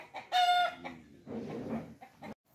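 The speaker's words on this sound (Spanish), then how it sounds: "allá están las gallinas" Backyard chickens cluck and squawk nearby in short bursts, with one louder raspy call, in an outdoor patio setting.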